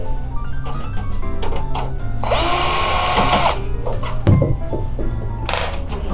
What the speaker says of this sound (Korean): 여기 바닥면 쪽에 있는 나사를 먼저